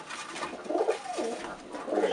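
Tippler pigeons in a loft give soft, close, low cooing calls in a few short rolling phrases, with no talk.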